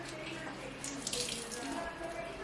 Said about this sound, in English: There is water inside, that's why I'm squeezing out the water